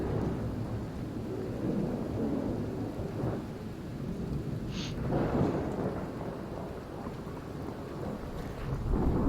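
A thunderstorm in Skyrim with the True Storms mod: steady heavy rain and low rolling thunder rumble continuously, with wind mixed in, loud and enveloping, no voices.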